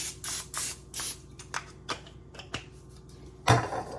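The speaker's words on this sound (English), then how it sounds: "I'm going to go ahead and just spray them down with some nonstick spray" Nonstick cooking spray misted over vegetables in a home kitchen, a series of short hissing bursts in quick rhythm, close and fairly loud, followed by a sharper clatter near the end.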